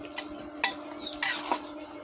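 Bay leaves and panch phoron stirred in hot oil, with a soft sizzle under a few sharp scrapes and clinks of a spoon against the pan, close by.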